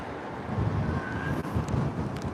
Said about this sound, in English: Wow, the wind is strong.